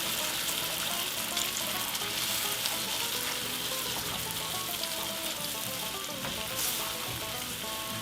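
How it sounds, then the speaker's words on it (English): An egg sizzles and crackles steadily in a hot pan while being stirred, a dense, close, continuous frying hiss with small pops and scraping throughout. "now we're going to stir it around"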